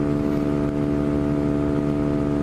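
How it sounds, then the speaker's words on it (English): A Honda Grom motorcycle with a new aftermarket exhaust drones steadily at about 66–69 mph on the highway, loud and even throughout with no voices. "I hope that exhaust isn't too loud"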